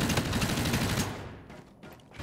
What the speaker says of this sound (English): A fucking minigun.